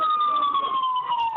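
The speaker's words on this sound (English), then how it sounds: "Whoa, I'm hearing a siren." An emergency siren wails steadily and loudly, a single sustained tone slowly falling in pitch, heard over a phone line with faint background noise.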